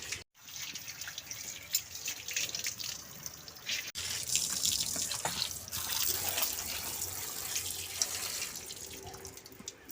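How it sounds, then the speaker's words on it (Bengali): Fish are washed by hand under a running kitchen tap, a steady close stream of splashing water with rubbing, sloshing and occasional clatters. "মাছগুলোকে আমি রোগড়ে খুব ভালোভাবে ধুয়ে নিয়েছি"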